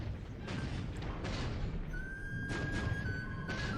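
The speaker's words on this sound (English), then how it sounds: "Corvette trying to fire at us." Naval guns booming from a corvette in the War in the Pacific strategy game, a dense, rumbling low barrage of repeated thuds with thin whistling tones threaded through, loud and continuous.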